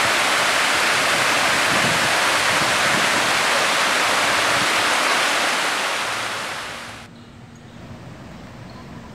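A Hawaiian resort waterfall on the Big Island pours with a loud, dense, continuous roar for about seven seconds, then drops away to a soft, distant hiss.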